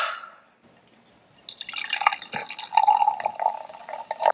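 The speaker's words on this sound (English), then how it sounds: "For posterity, I will pour it into a glass." Truly lemonade hard seltzer pours into a glass as a trickling, fizzing splash that begins after a quiet moment and builds into irregular drips and bubbling, close and fairly soft.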